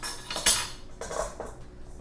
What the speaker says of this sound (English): we will sift these all together